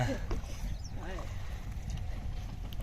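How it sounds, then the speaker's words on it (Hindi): Strong wind blusters steadily across the microphone outdoors at a shrine courtyard, a loud low rumble filling the whole moment, with faint voices in the background. "हवा देखें कितनी चली हुई, हवा चली हुई है फुल।"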